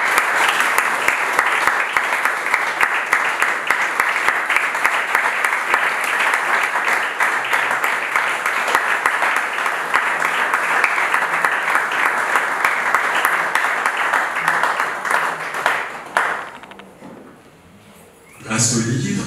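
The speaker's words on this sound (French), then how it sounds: "Je vous invite à applaudir, mesdames et messieurs, pour Lumière Nidiba" At a book event, an audience applauds author Lumière Nidiba, a long, loud, dense stretch of clapping that breaks off abruptly near the end before the room sound returns, with a voice briefly audible.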